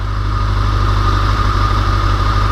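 A Kawasaki Ninja 636 on its stock exhaust idles close by, giving a steady, low, even rumble with no throttle changes and no talking.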